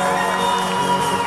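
Crowd cheering and applauding at an outdoor fair concert in Maravatío, Mexico, a dense sustained roar of voices and clapping held at steady loudness throughout.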